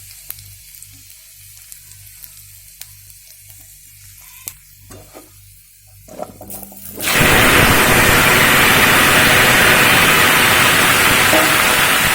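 Potatoes dropped into hot oil with dried red chili and panch phoron burst into a loud, steady sizzle that fills the kitchen after a quieter stretch of small clinks.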